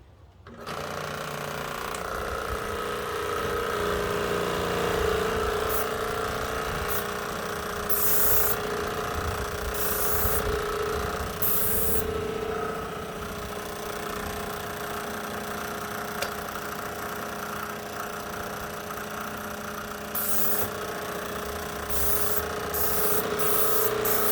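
A Titan Speeflo airless sprayer hums and hisses steadily while spraying paint onto an oak cabinet, with spurts of hissing spray over the constant machine drone and no talk.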